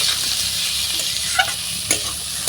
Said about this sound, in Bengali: এবার নাড়াচাড়া করে খুব ভালো করে কষিয়ে নেব।